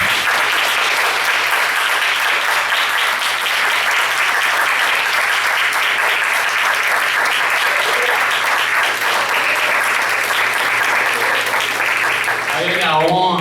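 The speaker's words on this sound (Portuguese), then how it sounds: "Vamos dar uma salva de palmas?" Sustained applause from a church congregation at the close of a service, a broad, steady clapping that runs loud for about thirteen seconds, with a voice breaking in briefly at the very end.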